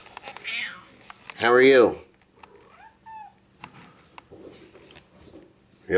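A blind cat gives a single loud, drawn-out meow close by, followed by a brief faint chirp, with a person speaking softly around it in a quiet room.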